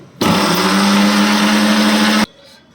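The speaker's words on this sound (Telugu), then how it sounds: "ఇలా పొడి చేసుకున్నాక వేసుకోవాలండి మిక్సీ పట్టుకుందాం" A kitchen mixie grinder whirs loudly for about two seconds, pulverising poha flakes with sugar into powder, with a steady high motor whine that starts and stops sharply.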